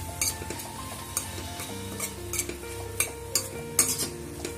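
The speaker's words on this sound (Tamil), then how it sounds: "தக்காளி பழம் நல்லா வதங்கணும், அதுக்காக கொஞ்சமாக உப்பு சேர்த்துக்கோங்க. நல்லா வதக்கிக்கோங்க." Tomatoes being sautéed with salt in a pan for mutton biryani, giving a steady soft sizzle broken by repeated scraping stirs of a utensil against the pan, close and moderately loud with no talk.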